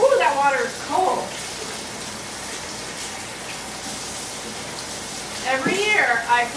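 Cold tap water runs and splashes while someone washes their hair at home, a steady gushing hiss with louder bursts of splashing near the start and again at the end.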